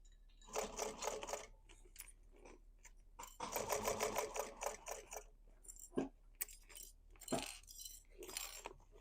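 Sewing machine stitching the webbing-edged seam of a handmade basket, running in several bursts of rapid mechanical stitching with short pauses and a few clicks between runs, close and alone.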